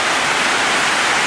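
Rainwater pours steadily off a zinc roof onto an iron fence, making a dense, loud, unbroken rush of splashing water with no pauses.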